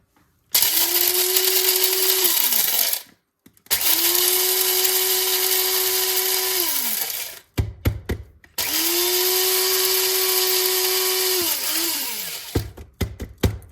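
Small electric coffee grinder buzzing through beans to a medium fine grind in three long, loud, steady bursts separated by brief pauses, each ending with the motor winding down and a few rattles.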